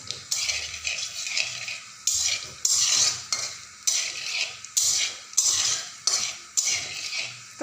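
Dry red chillies, bay leaves and panch phoron fry in a pan while a spoon stirs and scrapes in a steady repeated rhythm, with a light sizzle underneath, close up.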